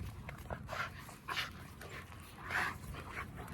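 Two XL Bully dogs pant close by in quick, breathy bursts, quiet and rhythmic, with faint whimpering, and nobody talks.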